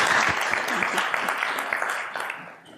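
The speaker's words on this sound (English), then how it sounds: "Let's give her a round of applause" An audience at a marriage seminar applauds, a dense spread of many hands clapping that stays strong and then thins out and fades over a few seconds.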